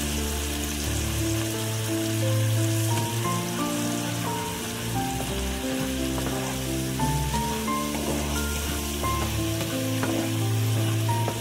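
Spices for a coconut hilsa curry sauté in a pan, giving a continuous sizzle and stirring sound under loud melodic background music, with no talking.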